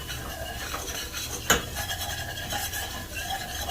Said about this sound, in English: let's slowly stir this in